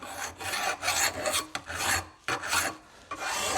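Hand file deburring the edge of sheet metal: a series of rough rasping strokes in an uneven back-and-forth rhythm, close and fairly loud, with short pauses between passes and no talk.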